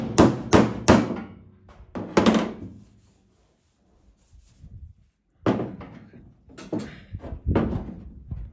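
Hammer blows strike a car door on a Holden HJ wagon under repair, sharp close impacts in quick clusters of two or three, with a quiet pause in the middle before another run of loud hits, the hammer's head working loose.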